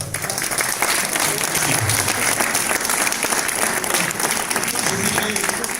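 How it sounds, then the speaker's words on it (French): Gallery crowd at an art exhibition opening clapping for a painting, dense continuous applause filling the room at close range for several seconds, a few faint voices mixed in underneath. "Effectivement qu'on peut l'applaudir encore."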